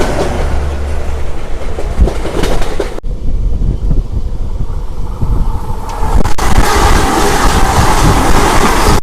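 The Kerala Express, a Thiruvananthapuram to New Delhi train, passes very close and loud, a heavy continuous roar of coaches with rhythmic wheel clatter and rushing wind, briefly changing tone as carriages go by.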